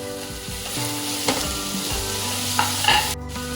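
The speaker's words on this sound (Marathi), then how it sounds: "गॅस बारीक करायचा कांदा घालायचा कांदा परतून झाला की टमॅटो" Chopped onion sautés and sizzles steadily in a pan over lowered gas heat for masala daliya khichdi, a continuous close frying crackle with a few stirring clatters and no voices.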